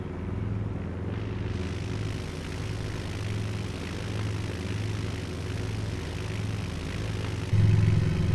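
A Kitfox STI light aircraft idles at a backcountry Idaho airstrip before takeoff, its propeller engine droning steadily and close, with a rise in power near the end.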